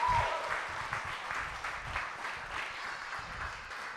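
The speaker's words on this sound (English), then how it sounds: "Give him a round of applause" Applause from an audience honouring a drama teacher at a memorial or tribute gathering, a steady wash of clapping at moderate level that continues evenly throughout without fading.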